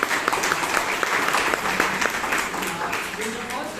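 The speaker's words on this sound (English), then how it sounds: "Can we have a big round of applause?" Applause breaks out at a Toastmasters club meeting in Bangalore after a table topics session, a steady wash of many hands clapping at close range with voices mixed in underneath.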